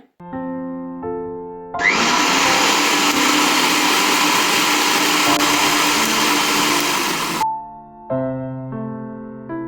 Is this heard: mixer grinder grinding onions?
yes